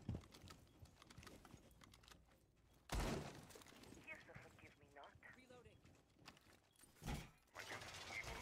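A wall being broken open in Rainbow Six Siege, with a sharp crashing burst near three seconds followed by scattered debris cracks and another hit around seven seconds, under steady game sound and voices talking.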